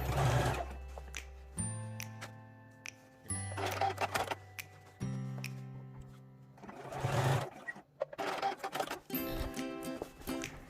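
A sewing machine stitching a mini tote bag, its needle running in several rapid mechanical bursts with short pauses between them, close and clear with no talking.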